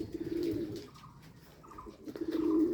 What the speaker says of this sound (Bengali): ওই দেখুন বোম্বে কবুতর কী সুন্দরভাবে ডাক দেয়